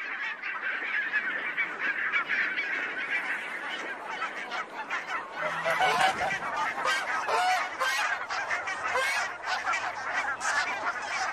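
A huge flock of about 50,000 barnacle geese in the Arctic honks continuously, a dense loud chorus of overlapping calls with no pauses, a narrator's voice faintly beneath at moments.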